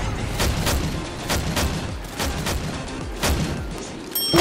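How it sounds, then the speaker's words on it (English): A run of sharp, evenly spaced gunshots in the zombie shooter Left 4 Dead 2, loud and repeated about every half second over rumbling game ambience. "Don't stop shooting."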